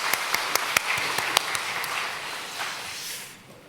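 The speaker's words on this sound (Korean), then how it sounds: "박수 올려드리겠습니다." A church congregation applauds during a Sunday worship service, a steady wash of many hands clapping with a few sharper claps on top, fading out near the end.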